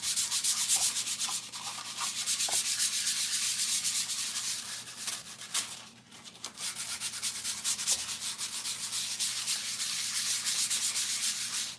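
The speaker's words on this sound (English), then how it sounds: "sanding is one of my least favorite parts of doing a guitar build or any building" Steady rhythmic sanding of a guitar body, a rough scratchy rubbing that repeats back and forth, close and unbroken except for one brief pause.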